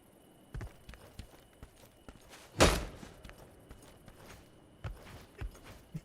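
Footsteps in the dark fantasy game Dungeonborne land as sparse, irregular thuds at moderate distance, with one louder sharp impact partway through and no talk.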